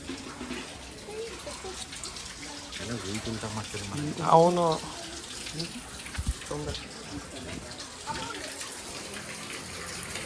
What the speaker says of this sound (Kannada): ಇದರಲ್ಲಿ 24 ಗಂಟೆ ಟೈಮ್ ಕೂಡ ನಿಮಗೆ ನೀರು ಬರುತ್ತೆ